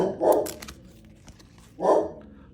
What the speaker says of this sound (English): my dog is going crazy in the background